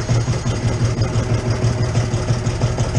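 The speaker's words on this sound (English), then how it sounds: "Let's see if this John Deere will start." A John Deere tractor engine chugs in a fast, steady rhythmic pulse, loud and close, with no voices over it.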